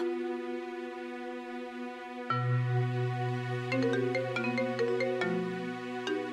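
A mobile phone ringtone for an incoming call, a clear electronic melody that starts softly, then jumps louder and carries on with repeating tonal notes, near and unaccompanied by speech.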